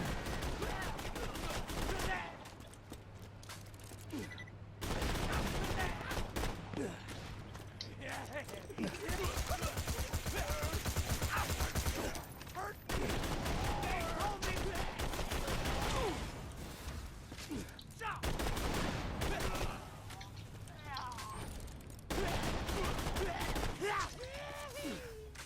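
Cannon-accessorized assault rifle fired by Axton in Borderlands 2, loud bursts of repeated booming shots in several volleys with brief pauses, plus game effects and a voice talking over parts of it.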